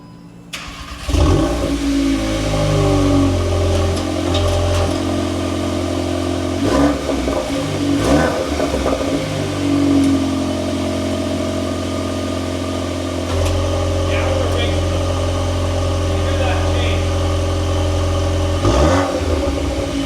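A 2025 Volkswagen Golf R cranks and fires up loudly, revs briefly, then settles into a steady idle with a few sharper blips, heard up close with no voices.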